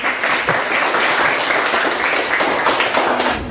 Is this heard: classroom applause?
yes